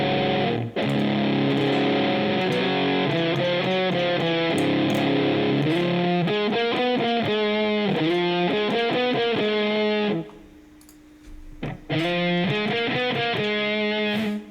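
Electric guitar run through a distortion pedal, playing a riff: thick, saturated chords chug and shift steadily for about ten seconds, drop to a brief low hum, then a distorted chord crashes back in, loud with no talking.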